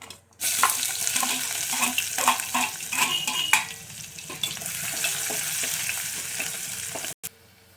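Onions and a single green chilli fry in a pan for alchanthakaya curry, with a steady, close hiss of sizzling oil broken by soft stirring scrapes and clinks before a brief cutoff near the end.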